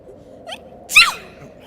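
A single sharp sneeze rings out in a quiet room, preceded by a brief sharp intake of breath.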